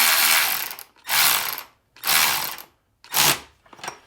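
A Milwaukee M12 3/8-inch cordless ratchet whirs in four short motorized bursts with brief pauses between, bolting a throttle body onto ABS plastic, loud and close with no talk.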